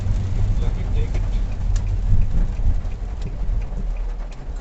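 Steady rain in Chennai hisses without letup, with scattered sharp drop taps over a low rumbling background.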